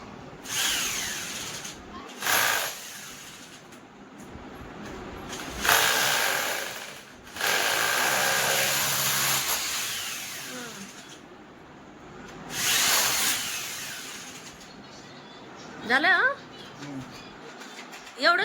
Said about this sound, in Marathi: ड्रिल मशीन यांच्या मित्राकडनं आणली म्हणलं आज लावूनच घ्या